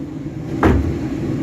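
A wooden chicken brooder door swings shut with a single short, solid knock, close by, over a steady low background hum.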